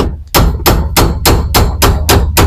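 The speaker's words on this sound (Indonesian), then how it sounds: "Saya hanya menggunakan alat seadanya, kita gunakan pahat dan palu." Hammer blows on a steel chisel prying open a part on a Toyota Vios that will not start, eight sharp metallic strikes in a steady rhythm, loud and close with no talk.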